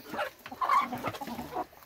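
Australorp and mixed-breed hens on a farm cluck softly in short, close, broken bursts, with no talking.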